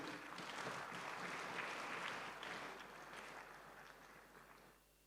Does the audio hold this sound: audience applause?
yes